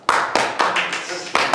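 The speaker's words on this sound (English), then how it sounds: "Clap." Stand-up comedy crowd clapping in a few loud bursts at close range, with sharp onsets repeating roughly every quarter to half second and a voice over the noise.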